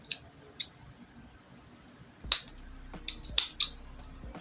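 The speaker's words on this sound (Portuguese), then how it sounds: "E depois, né, só cortar o excesso." Scissors trim excess yarn from a crochet vest, giving about six crisp, close snips spaced irregularly over a quiet background.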